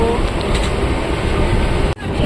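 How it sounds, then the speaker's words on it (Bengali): Steady rumbling inside a moving train carriage, a constant low roar of wheels and car body with a brief dropout near the end. "উঠে গেছি আমরা ট্রেনে, দেখো"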